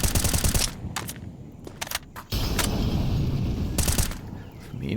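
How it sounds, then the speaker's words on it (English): Rapid automatic gunfire sprays in a competitive Counter-Strike match, with bursts of tightly packed shots, a brief pause, then more sustained firing. "Spraying through, just missing Sour"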